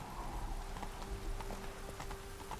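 The horse Roach gallops in The Witcher 3, a soft rapid clatter of hooves under a steady hiss like rain, fairly faint and with no talk.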